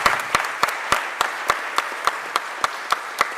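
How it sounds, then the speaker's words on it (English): Applause from the audience at a Philadelphia mayoral press event with Mayor Cherelle Parker: a steady wash of clapping, punctuated by sharp, evenly spaced louder claps that keep a regular beat throughout. "Give him a huge, huge round of applause."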